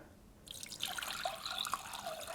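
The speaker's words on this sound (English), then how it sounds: "I'm going to grab my water down here, and I'm going to put a little water" Water poured into an empty flower vase for a floral arrangement, a steady splashing trickle starting after a brief quiet moment and continuing to the end, fairly close.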